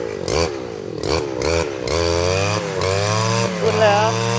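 A small brush cutter engine, modified into a leaf blower, sputters through a few pull-start attempts, then catches and revs into a loud, steady buzzing drone, close by.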